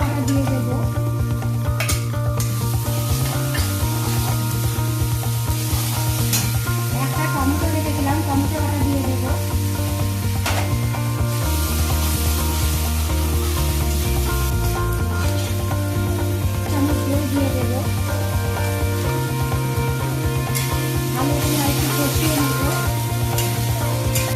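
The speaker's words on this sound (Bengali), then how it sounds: "সুন্দর করে এটাকে ভেজে নেব মশলাটাকে" Spice paste of garlic, onion and ginger frying for chicken in a pan, a loud steady sizzle with scraping and stirring strokes close by throughout.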